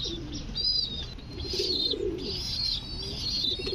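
Bombay pigeons coo softly and repeatedly close by, their low throaty calls rolling on with no talking.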